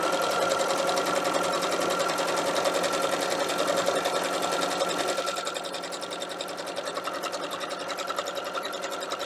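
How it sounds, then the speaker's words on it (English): A sewing machine stitches quilt fabric in a fast, continuous rhythmic chatter. It is close and steady, easing slightly quieter partway through, with no voices. "I don't like starting at the tip to sew"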